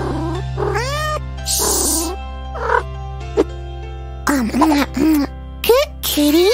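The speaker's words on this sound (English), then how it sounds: "Good kitty." Cartoon cat meowing in an animated kids' cartoon, several short rising and falling meows in a row, loud and close over a steady background hum.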